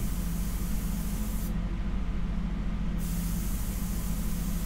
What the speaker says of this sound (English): a dagger stroke in Airbrush is being used all the time